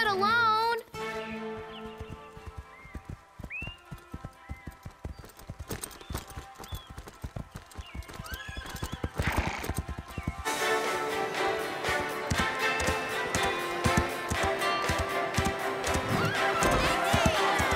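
In a cartoon, a horse whinnies several times and its hooves clip-clop at a gallop. A voice speaks briefly, and the hoofbeats grow denser and louder toward the end.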